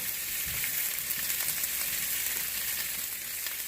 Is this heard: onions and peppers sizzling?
yes